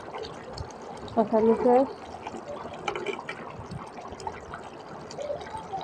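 Liquid poured into a pan of fish curry to make the gravy, a short gurgling, splashing pour under someone talking, followed by a low bubbling simmer.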